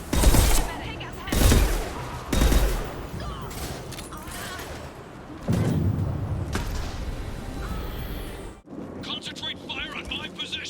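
Loud bursts of sci-fi weapon fire in the video game Mass Effect 2, several heavy volleys at the start followed by sustained combat noise, with voices speaking amid the shooting.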